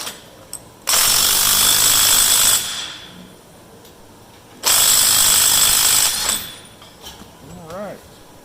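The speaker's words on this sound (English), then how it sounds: "I'm going to use an impact on it" An impact wrench tightens a 1 3/8-inch nut on the main thresher belt take-up pulley of a Massey 300 combine, firing two loud, rattling hammering bursts of nearly two seconds each, close up, with a pause between.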